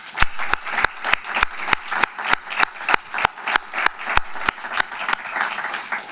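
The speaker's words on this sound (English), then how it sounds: "Give you a round of applause." Applause from an audience at a live business event in St. Louis, a steady wash of many hands with a few sharp, close claps cracking through at a fairly regular pace, loud and continuous.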